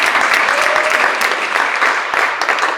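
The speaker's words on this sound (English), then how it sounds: "can we have a round of applause for my volunteers?" Loud, sustained applause from a science slam audience for volunteers on stage, a thick steady roar of many hands clapping close by, with a few sharper claps poking through.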